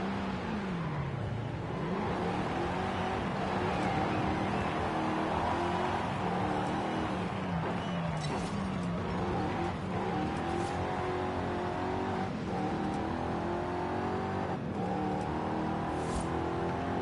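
A car engine in a racing video game, droning continuously and rising and falling as it revs through gears, loud and close with occasional sharp transient bumps.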